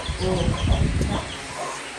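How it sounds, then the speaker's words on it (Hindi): A hen wandering loose near a goat farm clucks in a few short close bursts against a noisy background, briefly and fairly loud. "ये मुर्गी फिर आ जाती है, बेचारी बाहर निकली हुई।"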